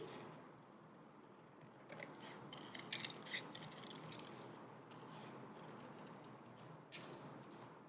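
Scissors cut a decoupage transfer sheet in quiet, crisp snips and rustles that come in short bursts over a soft background, with no talk.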